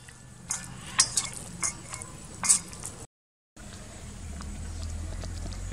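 Spice masala being mixed into raw chicken for grilling, with scattered clinks and scraping stirs against a bowl, a brief silent break, then a softer continuous shuffling.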